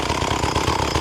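A gas chainsaw, an Echo CS-400 40cc with a seized centrifugal clutch, idles loudly and close in a continuous rough, fast-pulsing engine putter, with no talk.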